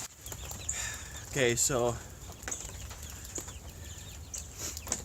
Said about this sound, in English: I heard the little chickens squawking their little heads off